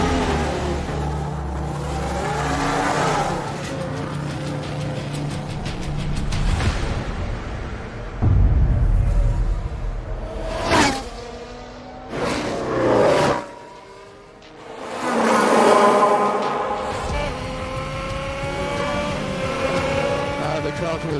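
A Formula 1 race car laps the Monaco circuit, its engine roaring and revving loudly with rapid rises and drops as it accelerates and brakes through corners, while radio voices speak over it.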